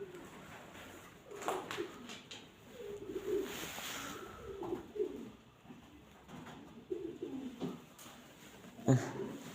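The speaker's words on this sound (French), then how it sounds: "Les pigeons ont vraiment pris le relais ici." Pigeons coo repeatedly inside an abandoned hotel, several low throaty calls overlapping in a reverberant space at moderate distance, with rustling and a louder call near the end.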